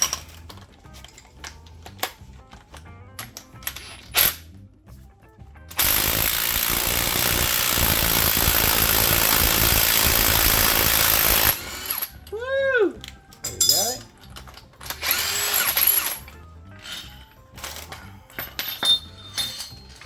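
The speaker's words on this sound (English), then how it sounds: "Go with the Ugga Dugga, see if we can get anything." An impact wrench works loose tired 20-year-old suspension bushes, firing one loud sustained burst of about five seconds mid-clip, set between quieter clinks and shop clatter.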